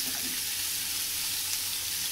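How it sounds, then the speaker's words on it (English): Pumpkin cooking in a pan over a very low gas flame gives a steady, close, even sizzle and hiss that holds unchanged throughout, with no voices. "So now I have put pumpkin in a low flame, so I have put the gas in a very low flame."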